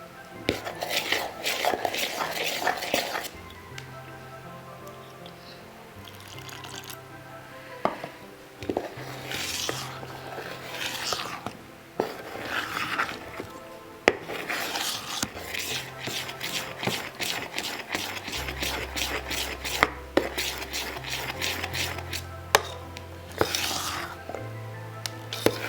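Dhokla batter being stirred with water for a Gujarati steamed snack, with repeated scraping and clinking of a spoon against a metal bowl in a steady, close rhythm, and background music playing throughout.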